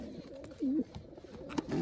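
Pigeons coo softly in a short burst at a backyard loft, with faint background noise around the calls.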